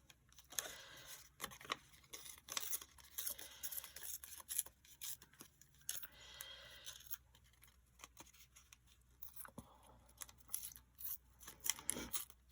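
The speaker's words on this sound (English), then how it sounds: "I'm just going to tear this one a little bit." Paper pieces being torn and handled at a craft table, with short papery rips and crinkles mixed among soft rustling and small taps, close and fairly quiet, no talking.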